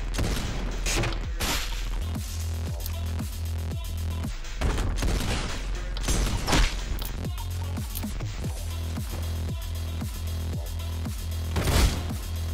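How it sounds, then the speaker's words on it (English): Rapid, loud shotgun blasts in the top-down shooter OTXO, a Hotline Miami–style roguelite, fire repeatedly in quick succession over a steady low hum, with no talk over them. "Double kill with the shotgun."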